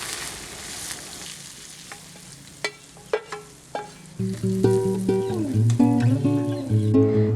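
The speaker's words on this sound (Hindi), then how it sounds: "तड़का हमारा रेडी है। अब तड़का लगाएंगे इसमें।" Quiet clinking at first, then a loud sudden sizzle as hot tempering oil hits a pot of mash lentils and keeps crackling steadily.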